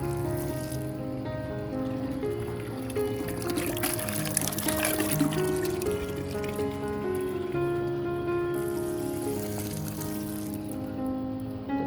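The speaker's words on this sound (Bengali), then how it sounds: "এখান থেকে এইভাবে পানি নিবে আর এইভাবে গাছে দিয়ে দিবে।" Water is poured onto potted plants in a rooftop garden, a continuous splashing pour that swells in the middle, over a steady tonal background.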